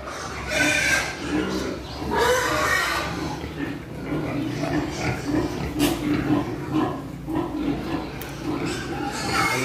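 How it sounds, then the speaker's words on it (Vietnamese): Piglets on a Vietnamese farm squeal and grunt steadily in a dense, noisy pen, with a person talking over the animal sounds throughout. "Hôm nay là heo con nha các bạn"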